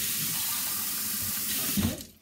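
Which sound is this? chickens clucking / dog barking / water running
water running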